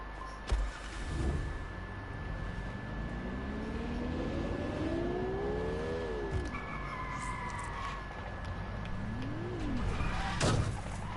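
Car engine in Watch Dogs: Legion humming and rising in pitch as it accelerates through gear shifts, with a steady drone throughout and a sharp thump near the end.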